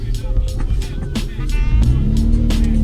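A Toyota MR2 Spyder with a full catless exhaust rumbles close by with a loud, droning tone and rises slightly in pitch, with a voice talking over it.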